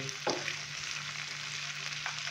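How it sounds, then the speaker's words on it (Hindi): Chicken frying in a pan with fresh coriander added, giving a continuous close sizzle with a steady hum underneath and a couple of brief stirring knocks. "सब्ज़ धनिया डालने के बाद अभी अच्छे से हम इसको मिक्स करेंगे और 1 मिनट के लिए हम इसको मज़ीद फ्राई करेंगे"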